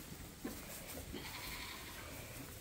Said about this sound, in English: On this side we have the Suffolk lambs.